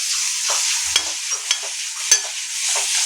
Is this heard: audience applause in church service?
no